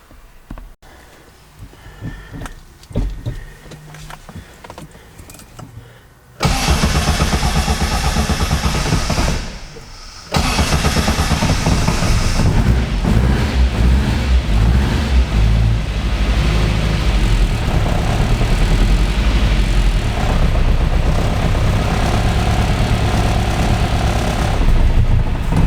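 A cold Austin 8 engine is cranked briefly and then catches, running loud and rough close by with a steady uneven drone, cutting out for a moment before firing up again and carrying on.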